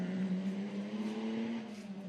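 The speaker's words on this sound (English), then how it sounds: "The GMC truck V8 just sounds beautiful out there on the racetrack." A GMC truck V8 engine powers a racing car at a sprint event on a racetrack, giving a steady, loud, low droning note that holds throughout with slight pitch wavering and no speech.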